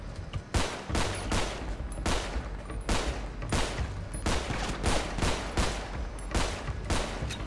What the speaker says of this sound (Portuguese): Tomando tiro em algum lugar aí, cuidado, hein.